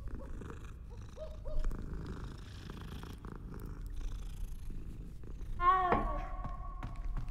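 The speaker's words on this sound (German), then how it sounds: "Katze." A cat purrs softly in Hogwarts Legacy, a low continuous rumbling close by over quiet game ambience, with a brief tonal chirp near the end. No speech.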